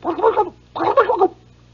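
A person's voice imitates a turkey gobbling in two short, warbling bursts, close and fairly loud.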